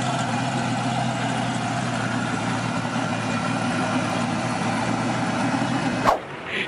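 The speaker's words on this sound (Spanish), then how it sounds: "Vamos a buscar ese Camaro de CS otra vez, que suena delicioso." Chevrolet Camaro idling at a Cars and Coffee meet in Miami, a steady, rumbling engine idle heard close and alone for several seconds, ending in a brief bump.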